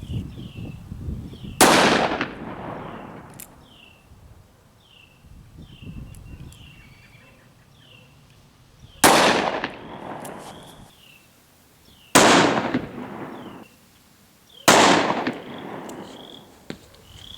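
Four sharp, loud 38 Special Plus P full metal jacket gunshots fired into ballistics gel, spaced irregularly several seconds apart, each with a short echoing tail, outdoors with faint bird chirps between shots.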